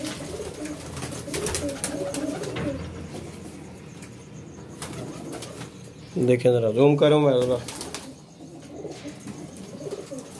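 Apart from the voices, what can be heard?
pigeons cooing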